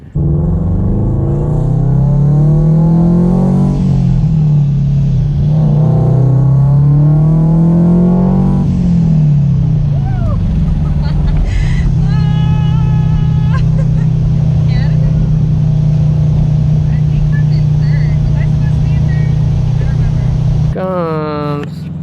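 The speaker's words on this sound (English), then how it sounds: "I get to hear what the exhaust sounds like" A supercharged Scion FR-S with an aftermarket exhaust revs up and down several times with rising and falling pitch, then settles into a steady loud rumble; a few brief voices and clicks break in near the end.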